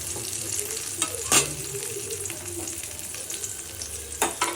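Ash gourd pieces frying in a pan, a soft continuous sizzle with a few brief clatters of stirring, heard alone without talk.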